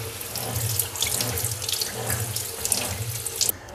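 Tap water runs in a steady, close splashing stream as a dirty air filter from a Kawasaki ER6N motorcycle is rinsed, the flow fluttering as the filter is turned under it.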